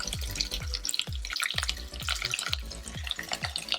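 Two large cubed onions sautéing with garlic in a pan crackle and sizzle steadily, with regular stirring thumps about twice a second.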